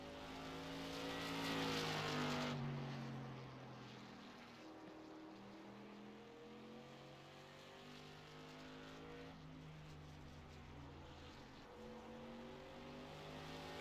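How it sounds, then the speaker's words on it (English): A race car in a ViRL SK sim-racing qualifying session heads onto a hot lap, its engine note rising and falling through gear changes, moderately distant and faint, with no talk. "Rice comes around now to start his first hot lap"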